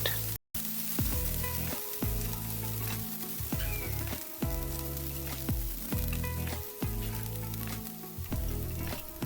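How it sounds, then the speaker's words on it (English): Chilies sizzle in hot oil in a pan of garlic pasta, a steady frying hiss running beneath louder rhythmic music for the whole stretch. "Now add your chilies and cook it."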